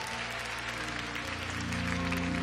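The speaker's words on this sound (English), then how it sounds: "Clap with everybody else." Steady applause from a congregation at a church healing service, a continuous wash of many hands clapping at moderate distance with sustained musical tones beneath.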